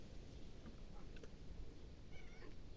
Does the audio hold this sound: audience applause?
no